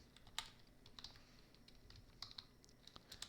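Typing on a computer keyboard while entering a search for Bitcoin, with a few sharp separate key clicks spread over a few seconds, quiet and close against a faint steady background hum.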